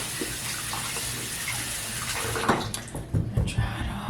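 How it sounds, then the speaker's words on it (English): Hands being washed under a running tap, a steady broadband stream of water that breaks into irregular splashes near the end, with a voice faintly present underneath. "But yeah, I just wash my hands."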